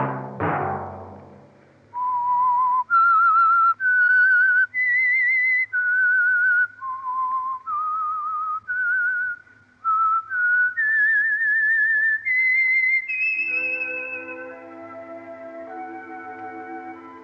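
A clear whistled melody, the theme of the 1950 radio program The Whistler, a short tune of sustained notes rising and falling, ending on a held tone with a soft accompaniment.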